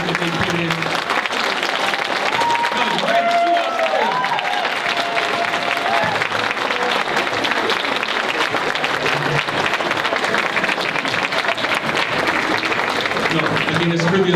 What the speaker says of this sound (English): Can we just stand and give our graduates another round of applause for all the hard work that they put in?